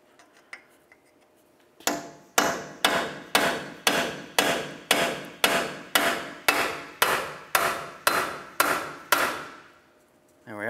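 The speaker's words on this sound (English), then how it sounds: "take a hammer and a punch. You're gonna come right in the center right here and start driving this axle out" A steady series of about fourteen sharp metallic hammer blows on a punch, driving the axle out of the wheel bearing hub on a 2007-2011 Toyota Camry, evenly spaced and loud, ringing out with no talking.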